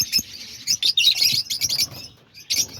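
Fischer's lovebirds chirp in a busy, overlapping flurry of high tweets, some bright calls close by and others further off, pausing briefly before another burst of chirping.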